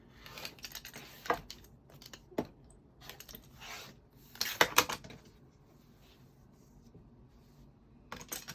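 Scissors snip and cut through fabric in short bursts, close up, with quiet rustling and pauses between cuts.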